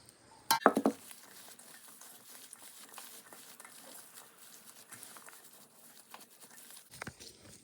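Onions chopped with a knife on a cutting board for stuffed peppers and cabbage rolls: a short burst of quick, close chopping knocks, then a faint, steady kitchen background.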